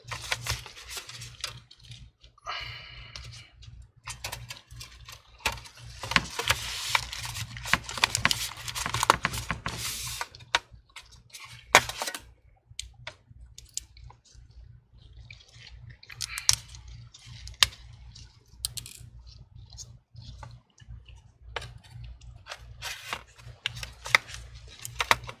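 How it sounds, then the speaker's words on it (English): A screwdriver drives the last screws into a cover panel at the end of a cheap repair job, giving close, irregular ratcheting clicks and scrapes over a steady low hum. "Cover this up and finish up the rest of the screw, and that should be it."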